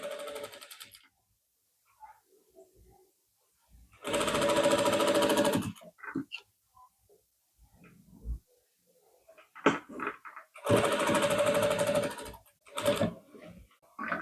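A sewing machine stitches along the edge of a half collar on a lining suit in two loud, sustained runs of rapid needle chatter. Quieter handling clicks and pauses fall between the runs, and no one speaks.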